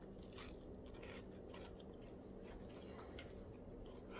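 Crisp bites and crunchy chewing of a giant, extra-baked dishpan cookie, repeated bursts close to the mic over a steady low background hum with faint bird-like chirps.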